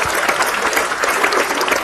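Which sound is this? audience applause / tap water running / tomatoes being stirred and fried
audience applause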